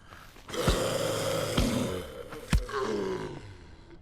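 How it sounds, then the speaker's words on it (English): Deep growling zombie roars and groans from a video game repeat at intervals, loud and close, with sharp vocal bursts over a rumbling background. "For some reason, the zombie sounds are quite scary, albeit very repetitive."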